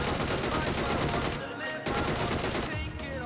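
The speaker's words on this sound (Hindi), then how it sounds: "तो फिलहाल इसी बीच लूटने के टाइम मुझे टावर के ऊपर से फायरिंग का शॉट्स आया मेरे ऊपर" Gunfire rains down from a tower in PUBG: rapid automatic bursts, loud and dense, pausing briefly twice before resuming.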